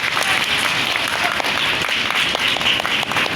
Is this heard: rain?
no